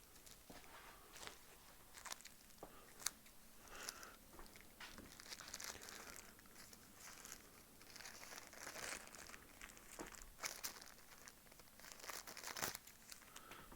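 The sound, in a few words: small plastic bags being opened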